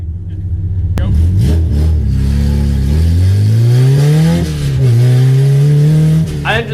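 A Honda Civic drag car fitted with a header and a cracked turbo manifold accelerates hard on a road course, its loud raspy engine climbing through gears with rising pitch sweeps and a brief dip between shifts, very close.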